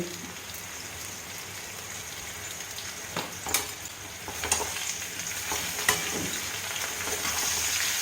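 Teasel gourd and potato pieces fry in a pan with a steady, close hiss of sizzling oil, broken by a few sharper crackles and spatters partway through; no one speaks.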